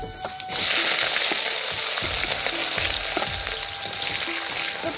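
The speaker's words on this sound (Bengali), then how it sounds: "তো পেঁয়াজটা ভাজা হয়ে গেছে" Sliced onions frying in oil with bay leaf and cumin, a close, continuous sizzle with light stirring scrapes, no talking.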